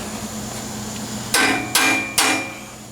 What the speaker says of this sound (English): I think we need some hammer time